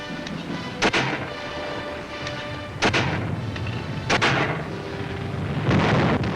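Heavy artillery booms and gunfire in a WWII Pacific battle on the Marianas islands, with four big blasts roughly every one to two seconds over a constant rumbling background of distant fire.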